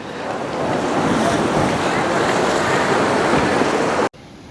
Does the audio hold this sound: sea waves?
yes